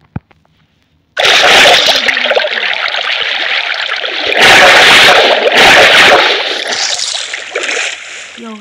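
A Minecraft player jumps into water, giving a sudden loud splash after a brief quiet start, then a sustained rushing, sloshing water sound that swells and fades over several seconds, with a voice briefly heard.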